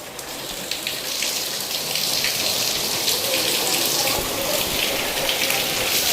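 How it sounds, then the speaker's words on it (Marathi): Steady rain pours down outdoors during the monsoon, a dense, even hiss of drops splashing on surfaces that stays loud and continuous throughout. "भारी वाटतंय पाऊस पडतोय तर"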